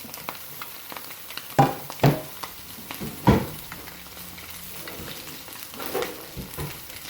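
Cabbage sizzles in a hot pan for a plant-based stir fry with ramen noodles and tofu, a steady frying hiss broken by a few sharp clatters and pops as the food is added and stirred.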